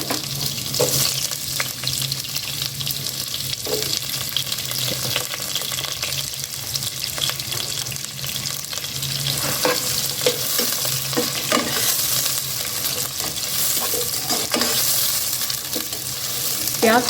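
Onions sautéing in three tablespoons of oil for an okra bhindi sabzi, a steady close sizzle running throughout with occasional stirring scrapes and clinks, no talking.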